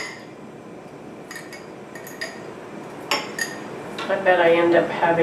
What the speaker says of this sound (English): What I'm going to do now is just stuff onions into these jars and push them down.